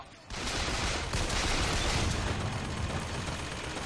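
Sustained turret gunfire in the BioShock Infinite video game, a dense, continuous rattle of rapid shots that sets in suddenly and holds steady at close range.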